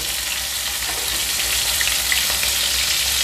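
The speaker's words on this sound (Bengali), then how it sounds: "তেলটা গরম হয়ে গেছে, বাগদা চিংড়িগুলো ভেজে নিচ্ছি।" Tiger prawns fry in hot oil with a steady, dense sizzle that stays close and fairly loud, a few faint pops rising from the hiss, with no voices over it.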